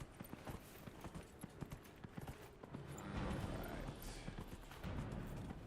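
Horse hooves clip-clop in a quick galloping rhythm in the Dragon Age: The Veilguard video game, faint and fairly muffled, with scattered thuds of running over enemies.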